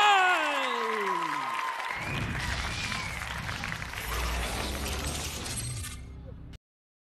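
Crowd applause in a kickboxing arena as a Japanese fighter is introduced, a broad wash of clapping and cheering under booming music and announcer-style sound, ending abruptly.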